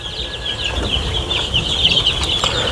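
Chickens on a poultry farm cluck and rustle in a steady, close chorus, with a busy high-pitched layer of calls over a low background murmur and no talking.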